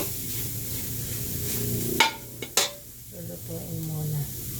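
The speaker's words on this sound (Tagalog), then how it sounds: "Itutos ko muna itong tinapa." Tinapa smoked fish frying in a pan, a continuous loud sizzle broken by a few sharp scrapes and knocks of a utensil against the pan, close up.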